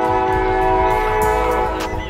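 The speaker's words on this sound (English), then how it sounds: "Here come the train though, y'all." A train rolls past close by with a long, loud sustained horn blast held across the whole stretch, rumbling wheels underneath and a rise in clatter near the end.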